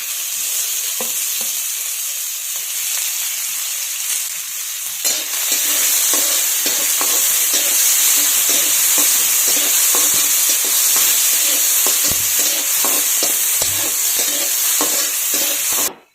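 Onion frying in hot oil in a pan while being stirred, a loud continuous sizzle with repeated scraping and clinking strokes of a spoon against the pan, close and steady throughout.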